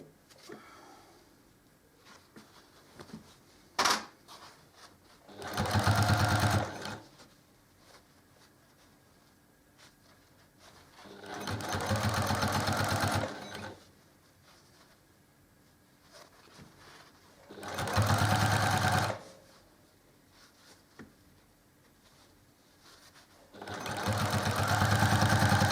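A sewing machine stitches quilt rows together in four separate loud runs, each several seconds long, with quiet workroom pauses between them and no talk.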